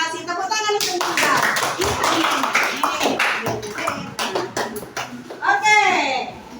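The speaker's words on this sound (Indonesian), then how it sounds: "Tepuk tangan untuk kita." A class of children clapping hands together, a burst of brisk, loud applause, with young voices chattering and calling out over and around the claps.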